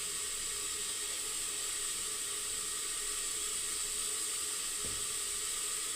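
Steady hiss of frying in a pan while raw plantain (kacha kola) for posto cooks, a constant broadband sizzle with no talk and one faint knock near the end.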